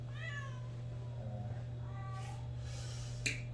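Cats meow repeatedly at moderate distance over a steady low electrical hum, several drawn-out cries spaced across the recording, ending with a sharp click.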